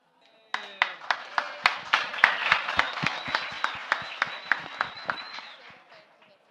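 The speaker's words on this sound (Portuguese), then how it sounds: "Obrigado pelas palmas, em primeiro lugar." A crowd claps steadily with sharp, evenly spaced hand claps standing out, starting abruptly and fading out after several seconds.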